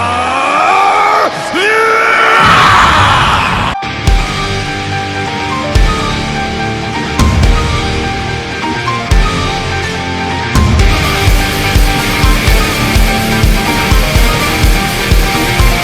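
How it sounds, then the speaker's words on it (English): Animated character Vegeta lets out a loud, sustained scream while transforming into Ultra Ego, with a rising yell in the first seconds followed by booming, crashing effects and pulsing bursts. "Vegeta went and he screamed."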